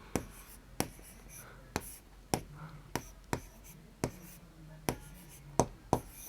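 A pen writing on paper during a Class 3 maths lesson, heard as a steady series of sharp, close strokes and taps at roughly half-second intervals, while a teacher speaks softly underneath.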